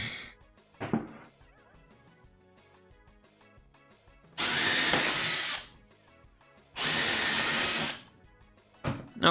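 A power drill bores through wood slats while building a CRT monitor stand, two loud sustained bursts of about a second and a half each, with quieter handling clatter and short bumps before and after.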